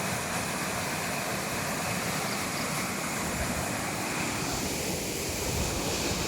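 Fast-flowing river water fed by a canal outflow surges past in a continuous, fairly loud rushing wash, with some wind noise on the microphone and no talking.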